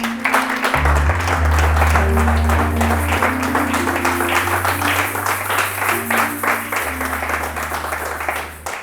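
Church congregation applauding at a French-language sermon, sustained dense clapping throughout with a steady low organ or keyboard chord underneath.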